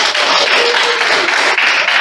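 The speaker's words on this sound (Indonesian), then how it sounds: "Kita tepuk untuk kelompok 1" Audience clapping steadily for a student group at the end of a classroom presentation, a dense, continuous patter of many hands lasting the whole moment.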